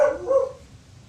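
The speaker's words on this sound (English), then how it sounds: "as you can probably hear, my wife is home and the dogs are announcing it pretty openly." Dogs at home bark a short, loud, close bark or two that trails off quickly, alone without talking.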